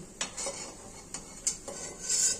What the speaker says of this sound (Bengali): আমি মাছগুলো তুলে নিচ্ছি।